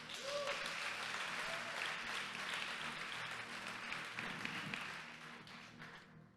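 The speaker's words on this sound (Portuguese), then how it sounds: "Aplauda o Senhor Jesus." Congregation applauding in a church service, a steady wash of many hands clapping that holds for several seconds at moderate distance, with faint organ or keyboard tones underneath before tapering off at the end.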